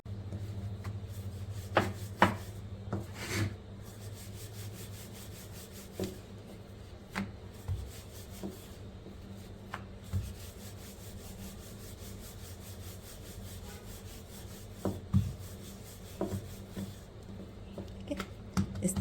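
Mini naan dough being rolled out a little thick with a rolling pin on a kitchen counter: soft, steady rubbing and rolling strokes close by, punctuated by occasional light knocks of the pin, with someone talking quietly now and then.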